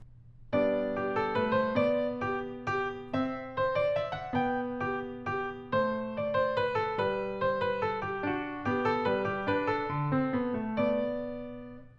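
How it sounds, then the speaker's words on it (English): Solo piano plays a light Bach minuet in short, detached staccato notes played from the arm without the wrist, with a steady dance rhythm, clear and close, with no voices. "If I were to play a Bach minuet without using the wrist"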